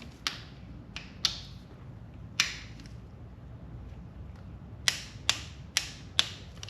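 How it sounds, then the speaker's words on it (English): A wrench torquing the oil filter cap bolts on a BMW F650GS Dakar motorcycle gives a series of sharp metallic clicks, some spaced out and several close together, over a quiet background with no talking. "These filter cap bolts get torqued to 10 Newton meters per the BMW shop manual."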